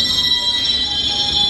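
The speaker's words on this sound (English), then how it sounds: "Noisy train." A London Underground District Line train gives a steady, loud rumble with a sustained high metallic whine and ringing squeal running through the whole short stretch, close by and without any voices.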